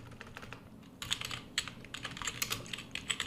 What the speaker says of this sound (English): You can also customize it just by typing, as you can see